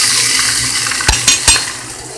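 Steak and onions fry together in a pan with a loud, steady sizzle. A few sharp clacks of a utensil against the pan break through near the end, and no one speaks.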